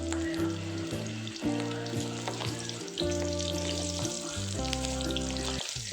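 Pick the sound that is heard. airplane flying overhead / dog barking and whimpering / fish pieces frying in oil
fish pieces frying in oil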